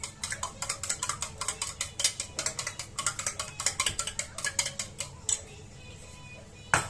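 Eggs being whisked in a bowl for an omelette, with yellow turmeric added: a fast, steady run of sharp clinks as the utensil beats against the bowl, close and fairly loud, easing off near the end with a final knock.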